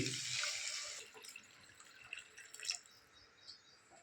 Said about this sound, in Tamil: ஒரு அரை லிட்டர் தண்ணி நான் ஊற்றி